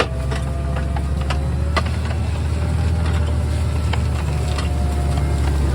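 A tractor working in a muddy field in fog runs with a steady low engine drone, with faint mechanical ticks and knocks over the rumble and no speech.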